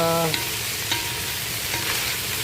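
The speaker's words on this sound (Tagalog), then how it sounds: "Gisa-gisa ng mais." Shredded corn being stir-fried in a pan gives a steady close sizzle, with a few sharp clicks from stirring.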